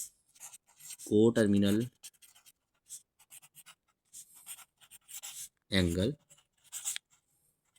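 Marker or pen writing a maths solution for a terminal angle exercise, close scratchy strokes in short bursts with pauses, with someone talking at intervals over it.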